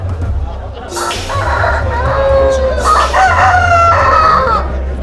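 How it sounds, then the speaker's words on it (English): Two fighting roosters in China squawk and screech in a loud, frantic scuffle, with harsh crowing bursts over a low rumbling background and people talking nearby. "there's something about watching two roosters rip each other to shreds"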